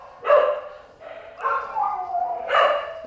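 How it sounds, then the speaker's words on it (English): A Brittany Cocker Spaniel puppy at an adoption shelter gives several close, high yips and barks with whiny tails, in an uneven rhythm. "a puppy, a Brittany Cocker Spaniel"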